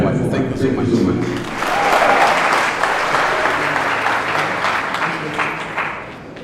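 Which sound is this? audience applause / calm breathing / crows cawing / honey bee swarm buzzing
audience applause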